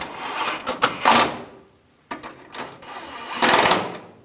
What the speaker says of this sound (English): Get the screws started. And tighten these down.